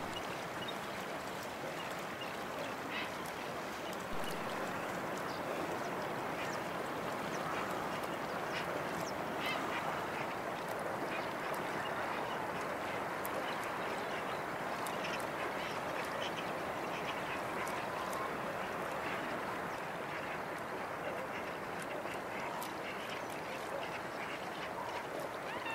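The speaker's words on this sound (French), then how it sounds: "Le bruit des ailes de pélicans qui fouettent l'eau pour rabattre les poissons devant eux." Pelicans beat their wings against the water of Lake Kerkini in September while herding fish, a dense continuous splashing and churning mixed with bird calls, steady and fairly loud throughout.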